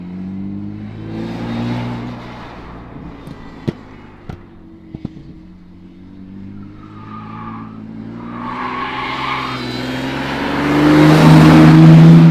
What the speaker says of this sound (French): premier tour de roue de cette petite E36. On rappelle E36 M54 B30